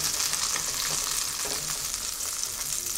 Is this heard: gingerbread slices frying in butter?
yes